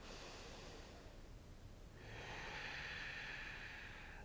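During a yoga class a person takes a deep breath, a soft nasal inhale followed by a fuller, airier exhale. The breathing is quiet and close, with nothing else heard.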